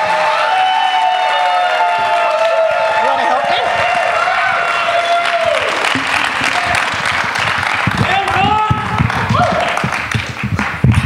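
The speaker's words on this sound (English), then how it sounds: "Please give him a big, big round of applause." Applause from an audience at an Ignite Denver live event fills the clip, a steady wash of clapping with some cheering while a person talks over it near the microphone.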